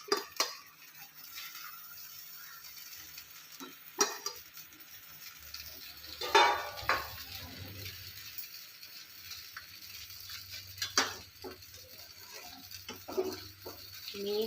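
Sago and crushed peanut mix for a fasting sabudana potato khichdi is tipped into a pan and stirred, giving quiet scrapes, utensil clinks and a low simmering hiss, with no talk.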